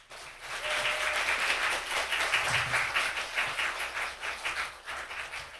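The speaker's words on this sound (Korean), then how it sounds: "우리 큰 박수로 강사님 모시겠습니다." A Baptist church congregation breaks into applause at an evening service to welcome a guest missionary. Many hands clap in a dense, steady burst that begins abruptly and fades slightly toward the end.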